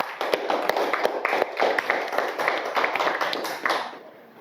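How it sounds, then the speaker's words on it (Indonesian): A class claps hands for a student group in a mathematics lesson, steady enthusiastic clapping throughout that fades slightly at the end, with faint voices underneath. "Kita berikan tepuk tangan yang meriah untuk kelompok 1 ya."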